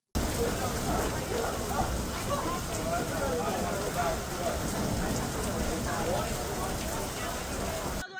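Heavy hail hammers down during a storm in Meridian, Idaho, as a dense, steady, roaring patter that stays loud and unbroken throughout.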